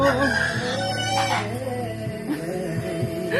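A chicken crows loudly and close by, one drawn-out call followed by a shorter second crow and some clucking, with no talking over it.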